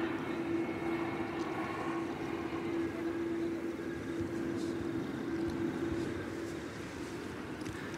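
A Qantas Boeing 787 taxiing at Sydney Airport at night gives a steady, continuous engine drone with a sustained tonal whine, holding even and fairly loud throughout and easing slightly toward the end.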